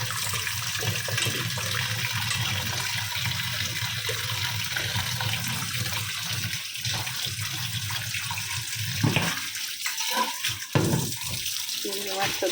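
Peeled prawns are rinsed under a running tap in a home kitchen, a steady hiss of flowing water with splashing and shifting as the prawns are handled, the stream briefly breaking up near the end.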